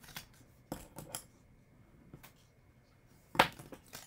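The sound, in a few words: scissors cutting paper for a pop-up card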